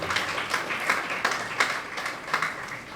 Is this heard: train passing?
no